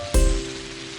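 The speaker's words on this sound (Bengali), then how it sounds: "যা বৃষ্টি হচ্ছে কদিন ধরে" Heavy rain comes down in a short burst, opening with a sudden loud hit that settles into a steady wash of falling water with faint tones underneath; no voices.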